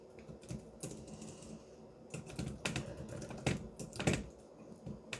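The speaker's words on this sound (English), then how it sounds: "Got some good Foley work tonight with my bouncing keyboard off screen here." An off-screen computer keyboard clatters with fast typing and bouncing keystrokes, rapid uneven clicks that grow busier and louder toward the end.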